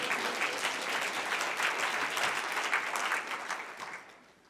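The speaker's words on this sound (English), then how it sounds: "Can we give him an applause?" An audience breaks into applause, a full burst of many hands clapping that holds steady for several seconds before fading out at the end.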